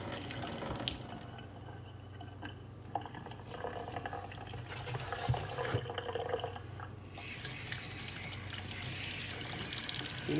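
Hot water runs steadily from a household tap during a homemade carpet-cleaning defoamer mix, a continuous splashing flow with small drips and stirring clinks, fairly close and without talk.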